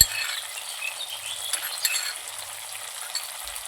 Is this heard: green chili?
yes